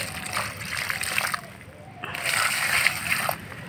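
Water pours and splashes onto garden soil around plants as they are watered, with steady sloshing broken by a short lull before a louder second pour.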